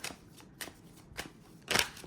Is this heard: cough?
no